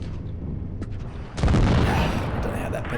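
Tank cannon shots in World of Tanks Blitz, a T28 firing on a B2: a loud booming blast lands midway, preceded by a lighter thud and trailing into a sustained rumbling roar.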